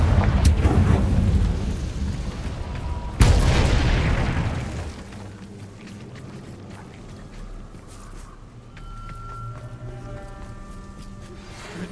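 A Confringo fire spell bursts in Hogwarts Legacy with two loud, thunderous blasts, the second a sharp crack that rolls off into a long rumbling decay before a quieter ambient game background.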